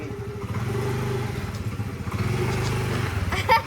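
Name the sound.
motorcycle engine revving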